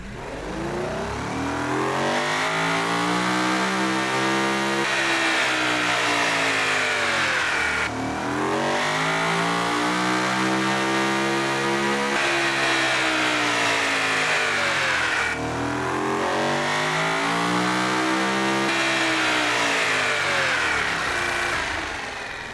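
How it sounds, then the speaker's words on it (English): A 9-litre V12 in the Uberschnell revs hard three times in long sweeping rises and falls, each climb holding at a loud, dense howl before dropping back, with no voices over it. "how the 9-litre V12 sounds"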